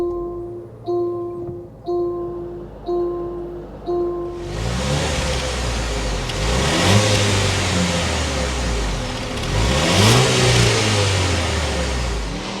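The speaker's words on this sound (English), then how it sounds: "Let's go inside, start it up so you can hear that exhaust note." A 2024 Range Rover Velar Dynamic SE P250 fires up after a few warning chimes, its engine catching with a loud burst and then settling into a steady exhaust note with two swells of revving.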